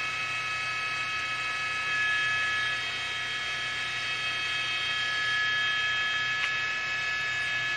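A news helicopter circling above a church fire in Van Nuys, California, gives a steady, even drone with a faint high whine, unbroken throughout and not very loud.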